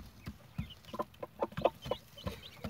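Chickens and young chicks on a farm where birds are reared from hatching to four months, giving soft, scattered clucks and short peeps at a moderate distance, with no talk.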